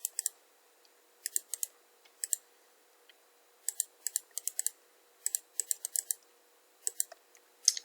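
Computer keyboard typing and mouse clicking while drafting in AutoCAD, heard as scattered bursts of quick clicks separated by short pauses, close and fairly quiet with no talking.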